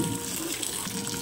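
Water gushes steadily while a car is being washed, a continuous close rushing spray with no pauses.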